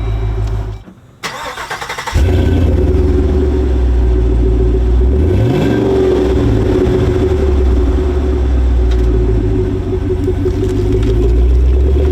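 A V8 engine in a Jeep fires up after a brief crank and settles into a loud, deep rumble, rising once in pitch as it revs toward full throttle.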